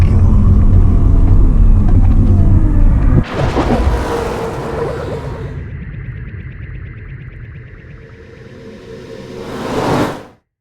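An electric Mk2 Volkswagen Golf GTI with a Tesla drivetrain rushes past in a loud whooshing swell, followed by a steady whine that fades away and then surges again close by before cutting off.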